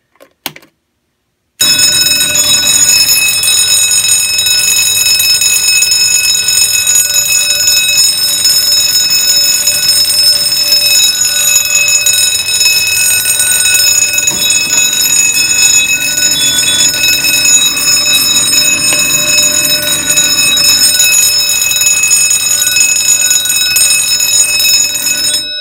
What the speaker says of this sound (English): Continuous bell.